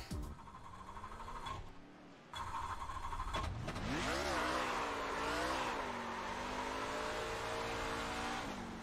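NASCAR Truck engines roar on the Phoenix oval in iRacing, a steady loud drone that climbs in pitch as the truck accelerates, with a brief dip near the start before the sustained high revving.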